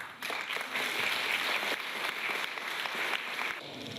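An audience applauding after a musical performance, a dense, steady clapping that swells in near the start and holds evenly for several seconds, moderately loud, with no speech.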